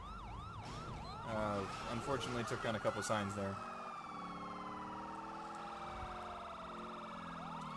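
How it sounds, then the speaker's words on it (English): A wailing police siren from the video game GTA 5, on a police Mustang GT350R, cycles up and down, then shifts to a steady tone, while someone talks over it briefly. "we're going full sirens"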